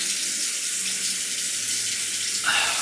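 A bathroom tap runs steadily for rinsing after a straight-razor shave, with a constant hiss of flowing water that shifts in tone near the end as hands pass under the stream, close and alone.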